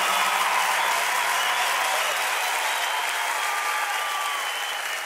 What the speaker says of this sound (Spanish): Dale ese aplauso fuerte al Señor.